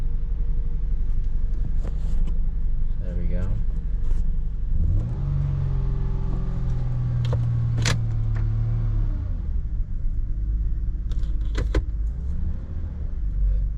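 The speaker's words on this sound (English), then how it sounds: "Alright, we'll go ahead and start it up. It might run a little rough for a second because the throttle body cleaner" A Genesis sedan engine cranks and starts just after its throttle body was cleaned, settling into a steady close idle rumble with a rising rev in the middle before easing back down.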